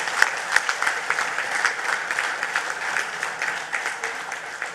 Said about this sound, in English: we want to give him a round of applause for having been an outstanding chairman